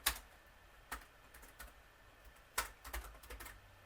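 Light keystrokes on a computer keyboard, coming in short scattered bursts with pauses between them, quiet and close.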